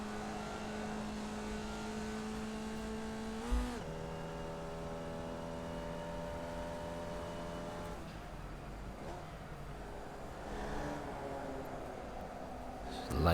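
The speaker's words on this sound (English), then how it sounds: "Labouring that engine." A race car engine in the iRacing video game labours steadily at low revs with a sustained tonal drone, shifting pitch briefly a few times, loud and continuous throughout.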